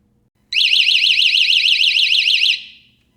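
A personal safety alarm blares after its cord is pulled, a loud, piercing warbling siren that starts suddenly, holds steady for about two seconds and then fades out.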